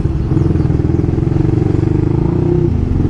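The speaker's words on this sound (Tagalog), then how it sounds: "ingay kasi ng pipe ko eh" A motorcycle with a loud aftermarket exhaust pipe idles or putters steadily close by, a continuous throbbing, slightly rattling drone with no talking over it.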